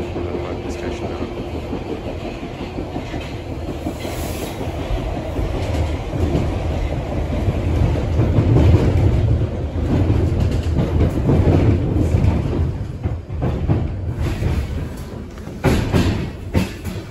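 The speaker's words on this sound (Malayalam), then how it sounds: "Mind the gap between the train and the platform." A London Underground train rumbles along a platform in winter, with steady low clattering and wheel noise that swells and fades slightly over the span, nearby and continuous with no talk.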